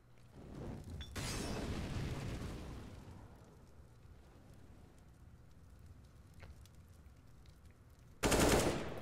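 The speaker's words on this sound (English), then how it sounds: "Tensky snipes Cutler there. Perfect headshot." Gunfire and blasts from Counter-Strike on the map Mirage during a competitive match, with a burst of loud shots at the start, a long rumbling stretch, then another sharp loud burst at the end.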